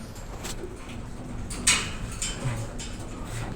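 Racing pigeons coo softly in a loft, low murmuring calls running steadily through the clip with a brief sharper rustle near the middle.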